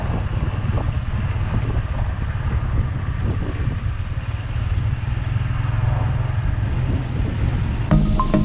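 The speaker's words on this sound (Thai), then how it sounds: "ลมพัดวิวงาม" Wind blowing at a riverside viewpoint in Nong Khai, a steady low rumble of gusts buffeting the microphone that continues unbroken with no voices.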